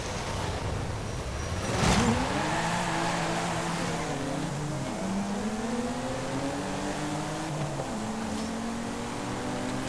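A BMW engine in Forza Horizon 5 revs hard and steadily for several seconds, its pitch climbing and dropping through gear changes, loud and close with no talking.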